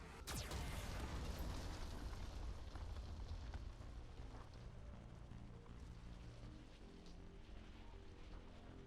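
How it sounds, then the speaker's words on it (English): Geth cannon blasts in Mass Effect 2: a sharp loud explosive burst at the start, then a dense rumbling roar with crackling debris that stays loud and sustained for several seconds, no voices. "Warning, Geth cannon is locking on our location."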